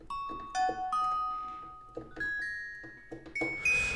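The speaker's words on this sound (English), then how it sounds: "I will go for a clang. Because it has this circular bell type of thing." Synthesized clang bell tones from Reason 10 ring out one after another in a stepping melodic sequence, bright and metallic with lingering decay.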